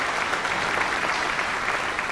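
Steady applause from the audience at the Barren County class of 2022 graduation ceremony, a dense, even wash of clapping throughout.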